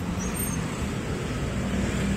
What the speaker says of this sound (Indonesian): Wah, busnya langsung kejebak macet lagi nih.